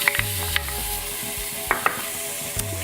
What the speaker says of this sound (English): I've already turned on my sauté function for this, and so I'm going to add some onion,